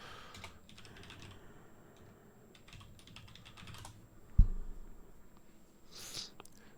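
Keyboard typing with scattered key clicks, moderately loud and close, followed by a sharp louder knock near the middle, in a quiet room with no talk.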